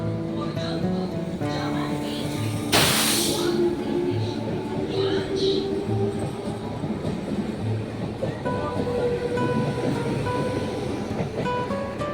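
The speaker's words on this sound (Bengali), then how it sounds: "দেখতেই পাচ্ছেন এবার ট্রেন ছেড়ে দিল।" A Howrah–Amta local train pulls out of a small station set amid open fields, its rumble and wagon clatter rolling steadily at close range while someone talks over it.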